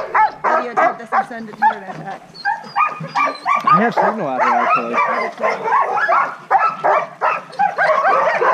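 A pack of sled dogs in Girdwood, Alaska, barks, yips and whines excitedly in rapid, overlapping bursts close by, while a person talks over the din.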